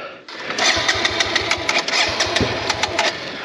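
Enduro motorcycle engine with a flooded carburetor sputters unevenly in a rapid, pulsing chug, close and loud, with a brief clunk midway and no talk over it.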